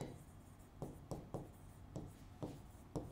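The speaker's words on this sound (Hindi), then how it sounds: "अभी मैं एक छोटा सा एग्जाम्पल बोर्ड पे लिखती हूं" Chalk or marker writes an English example sentence on a classroom board, producing faint, close scratchy strokes with a loose, irregular rhythm of about eight taps and scrapes, with no talking.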